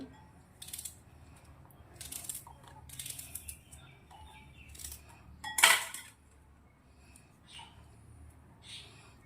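A knife chops an onion into large pieces for an onion sabzi, giving soft intermittent taps and one sharper clack against the board, close up and fairly quiet.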